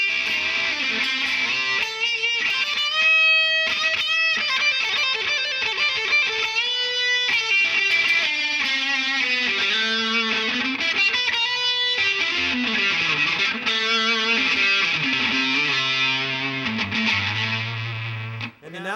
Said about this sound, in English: Now we'll go middle pickup with the distortion.